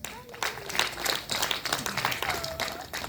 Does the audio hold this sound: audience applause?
yes